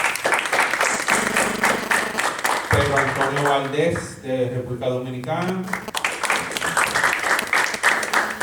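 An audience applauds anthology editors at a book presentation. Dense clapping opens and closes the passage, with someone speaking in Spanish over the quieter middle.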